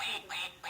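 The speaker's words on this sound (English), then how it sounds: "It's a very insistent duck." A toy duck gives three insistent quacks in a row, each a bright nasal honk, evenly spaced and fairly quiet against a hushed room.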